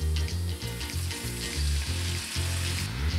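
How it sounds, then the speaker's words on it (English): Ginger frying in sesame oil in a pan, a loud bright sizzle with rhythmic low scraping strokes repeating through the short stretch, close and alone without speech. "Fry the ginger until it's fragrant."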